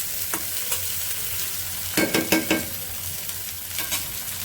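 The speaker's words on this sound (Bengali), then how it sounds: "ভাজা হয়ে গেছে মশলা" Steady frying sizzle of garlic paste, turmeric, salt and coriander powder in a pan, with a few sharp scraping stirs of a spatula, close and moderately loud, no voices.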